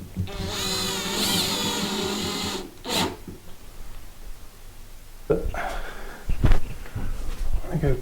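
Screws driven into bathroom tile with a power drill, a steady whirring drive for about two and a half seconds followed by a short burst, then scattered handling clatter and knocks close by.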